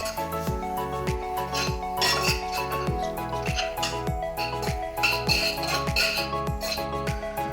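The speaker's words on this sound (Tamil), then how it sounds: "ஸோ ஃபஸ்ட்டு நான் 1 கப்பு ஓட்ஸை நல்லா ட்ரை ரோஸ்ட் பண்ணுறேன்." One cup of oats dry roasts in a pan, with a close, regular scraping and clinking of stirring against the metal that repeats in a steady rhythm.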